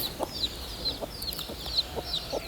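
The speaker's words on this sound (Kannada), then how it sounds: "ಎರಡು ಕೋಳಿಯಿಂದ ಮೂವತ್ತು ಮರಿ ಮೂವತ್ತು ಮರಿ ಇದೆ ನೋಡ್ತಿರ್ಬೋದು" Native country hens and about thirty chicks at a farm: high, thin chick peeps repeat every half second or so, faint and steady, with soft hen clucks underneath.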